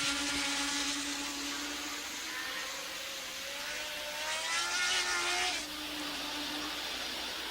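Formula 1 cars at the German Grand Prix, a loud sustained engine whine with pitch sweeping up and down as cars pass, one car swelling closer mid-clip before fading, under steady broadcast crowd and track noise.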